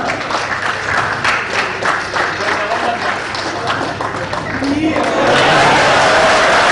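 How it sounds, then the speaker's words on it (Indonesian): Crowd applause welcoming Rocky Gerung on his arrival at a public event: sustained, loud clapping from a large audience with scattered cheers and voices, swelling louder toward the end. "Tepuk tangannya Bang ya sebagai ucapan selamat datang untuk the one and only Rocky Gerung"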